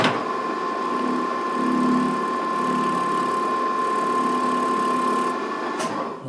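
A machine tool cuts a chamfer on a nut with a steady, loud mechanical hum and whine throughout, holding even for several seconds before a brief knock near the end.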